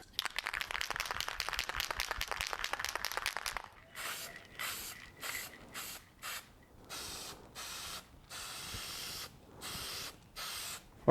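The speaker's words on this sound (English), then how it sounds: "first I'm going to spray the inside white" A spray paint can coats the inside of a box white, first in one long continuous hiss and then in a series of short, separate bursts with brief silences between them, close and fairly quiet.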